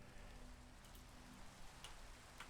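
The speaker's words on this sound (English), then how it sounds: "sleep through this night because it's just started raining" Rain in the video game Minecraft, a soft, steady patter with faint drop ticks throughout, quiet and continuous with no voices.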